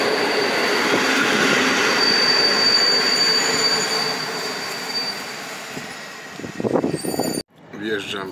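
A passenger train pulls into Rzeszów Główny station with its wheels squealing steadily and loudly at close range. The rolling noise fades toward the end, where a short burst of talk is heard.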